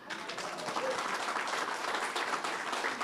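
A church congregation bursts into sustained, steady applause that fills the room with dense clapping for a few seconds, with no pauses.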